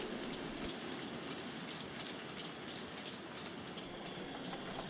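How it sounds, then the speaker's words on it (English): Model coal train running on a model railway layout, heading back to the yard, giving a steady rolling rumble with faint rhythmic clickety-clack of wheels over rail joints throughout, fairly close and without speech. "Here we see the coal train returning to the yard."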